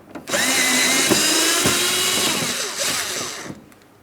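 Power driver backing out Phillips head screws from the front inner fender liner of a 2008-2016 Chrysler Town & Country, one close, loud whirring burst of about three seconds with a slight pitch dip, alone.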